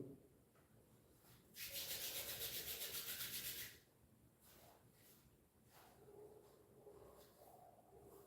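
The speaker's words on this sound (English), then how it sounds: "So you can rub your hands again and again and again." Two hands rub briskly together for about two seconds, making a soft, rhythmic swishing friction against a quiet room background.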